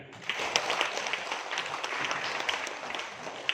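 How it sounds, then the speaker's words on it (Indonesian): An audience at a school workshop at SMAN 1 Gondang bursts into steady, dense clapping that carries on for a few seconds at an even level with a roomy, indoor feel. "Tepuk tangan."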